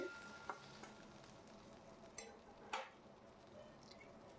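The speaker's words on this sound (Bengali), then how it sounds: "ওপর নিচ সুন্দর করে নাড়িয়ে চাড়িয়ে ভেজে নিতে হবে আলুটাকে।" Potatoes with salt and turmeric fry and get stirred in a pan, a faint low sizzle broken by several sharp scrapes and clinks of the spoon, quiet and close.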